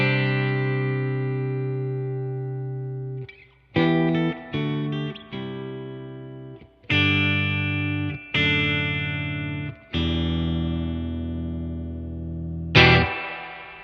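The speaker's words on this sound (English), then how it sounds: "This is the spring on the reverb." Electric guitar through a Fender Deluxe Reverb amp playing sustained chords and notes in bursts, each swell trailing off with a wet, splashy spring-reverb tail; no voices.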